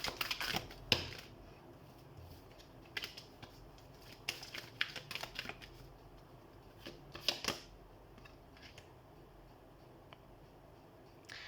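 Tarot cards shuffled and scattered, scattered bursts of crisp papery riffling and flicking, quiet and close, separated by pauses.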